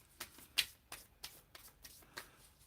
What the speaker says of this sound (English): got one more deck to shuffle